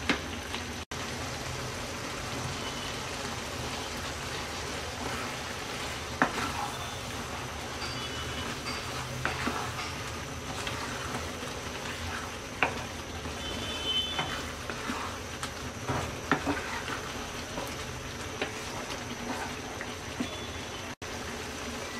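Moong dal with mixed vegetables and chopped coriander simmers in a pan, giving a steady, soft bubbling hiss with faint crackles throughout and no voices.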